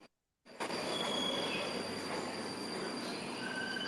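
Moscow metro train wheels squeal loudly in a sustained, high-pitched metallic screech over the rumbling roar of the moving train, starting abruptly after a brief silence.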